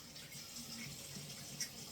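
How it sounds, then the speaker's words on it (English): Faucet water running steadily into a bathroom sink during hand washing, soft and continuous at close range. "now I'm going to wash my hands"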